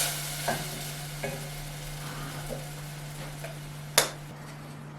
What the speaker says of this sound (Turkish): Sosumu ekliyorum makarnama. Birazcık karıştırıyorum.